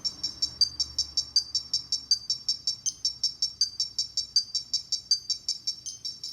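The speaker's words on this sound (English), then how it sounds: "It's just a simple metronome." A simple metronome clicking a steady sixteenth-note subdivision at 80 BPM, its crisp, bright ticks evenly spaced and repeating alone throughout.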